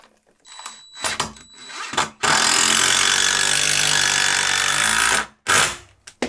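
A power drill drives a screw into a wall stud while a shoe shelf is mounted, a single loud grinding run of about three seconds that follows a few short taps and bumps and ends with one brief final burst.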